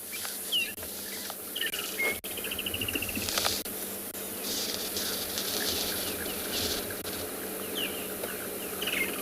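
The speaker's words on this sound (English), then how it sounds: "I can even hear a foam nest frog in the background." Night-time bushveld ambience at Tswalu Kalahari reserve with a foam nest frog calling faintly in the background, its clicking calls mixed among steady insect and cricket chirring and occasional bird notes.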